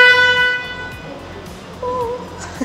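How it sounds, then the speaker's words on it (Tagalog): A 2024 Honda CR-V 1.5V Turbo horn sounds in two steady, fairly loud honks, the first about a second long and the second shorter, with background noise around them. "pakinggan naman natin kung ano yung sound ng horn ng ating Honda here"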